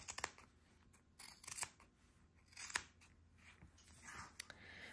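Scissors cut a strip of washi tape in a quiet room, making several sharp, close snips and rustles.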